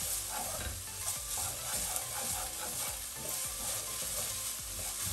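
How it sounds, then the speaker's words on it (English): Chilli beef ingredients fry over medium-low heat, a close, continuous sizzle with steady stirring scrapes and clinks in the pan and no voices. "we only need to fry them for a tiny bit"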